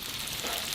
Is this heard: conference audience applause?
no